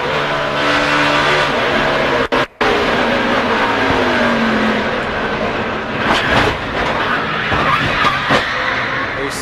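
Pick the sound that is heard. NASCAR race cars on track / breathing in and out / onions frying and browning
NASCAR race cars on track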